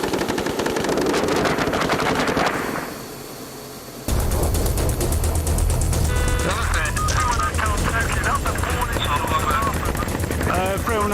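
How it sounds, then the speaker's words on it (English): Machine gun warning shots fired in bursts by Royal Marines in a field near a compound in Afghanistan, loud, close, rapid and sustained. The firing stops briefly, then resumes, with radio chatter and voices in the background. "warning shots being fired now, then"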